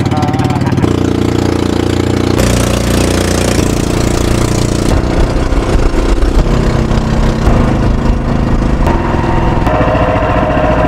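Boat motor running near Nagsasa, Zambales, a loud steady engine drone with throbbing mid-range tone that shifts in pitch as throttle changes, close by and continuous.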